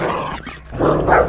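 A dog in the Dysmantle zombie survival game gives a couple of short, close, loud barks, the second louder, with no talk over them.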